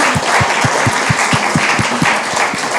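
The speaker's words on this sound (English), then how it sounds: "So if we could give everyone a round of applause" An audience claps at a commercial-building retrofit event, giving a loud, dense, steady round of applause with a few sharp low claps standing out near the front.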